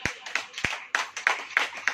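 A congregation at a church service claps hands in a steady rhythm, about eight sharp, fairly close claps over two seconds, with no talking.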